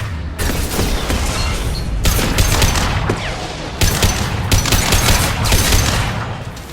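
Defensive turret fire in the Mass Effect game, loud sustained bursts of rapid shots in several long volleys separated by short gaps, harsh and dense with booming impacts.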